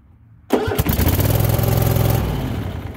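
A small Kohler Courage V-twin mower engine, fitted with a replaced starter, cranks and catches outdoors, then settles into a loud, steady rumbling idle close by.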